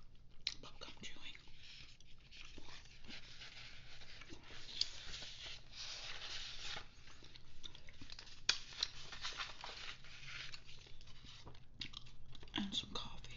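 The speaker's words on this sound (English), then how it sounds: "And juicy bubblegum chewing." Soft close-up chewing of juicy bubblegum in a quiet ASMR setting, with steady moist smacking and small crackles throughout, low in level, alongside faint whispery mouth sounds.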